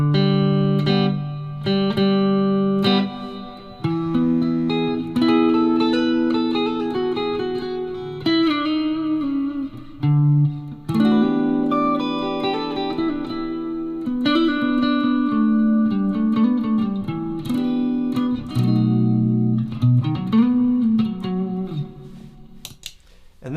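An electric guitar played through a reverb pedal, melodic notes and chords ringing out with a lingering wash of reverberation over a continuous passage, with no talking.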